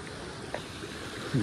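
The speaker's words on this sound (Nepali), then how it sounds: "खोलो आयो हाम्रो एकदम" A mountain stream flowing below a village in Padh, Doti, fills the scene with a steady, broad rushing wash that stays even throughout, with a brief louder bump near the end.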